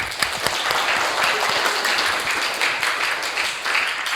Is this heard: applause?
yes